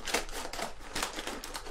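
Scissors cut through packaging in a series of sharp, crisp snips and crinkles, close and fairly loud, coming in quick irregular bursts.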